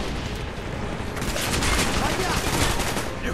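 A minigun in Call of Duty: Black Ops fires as a dense, continuous roar of rapid shots, loud and close, blended with explosions and battle noise, with voices shouting underneath.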